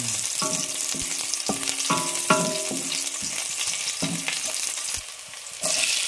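Onions sautéing in a pan, a continuous close sizzle broken by repeated clinking and scraping strokes of a utensil stirring against the metal, with no talk.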